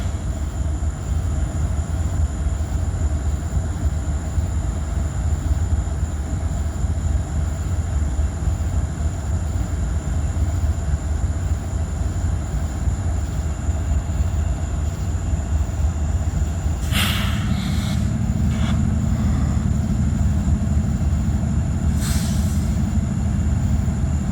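A heavy southbound train pulling uphill in Abbeville rumbles steadily for the whole stretch, a deep continuous roar with a few metallic squeals and clanks rising near the end.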